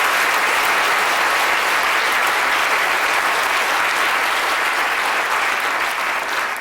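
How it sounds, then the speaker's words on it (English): A lecture-hall audience at a Royal Institution Christmas science lecture claps, a dense, loud, even wash of applause held steadily throughout with no voices over it. "A round of applause for Tim for trying our water."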